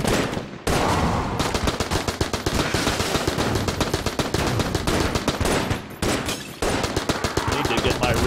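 Rapid automatic fire from an AK assault rifle in the game Enter the Gungeon: loud, sustained bursts of closely spaced shots with a couple of brief pauses, a voice talking over the gunfire.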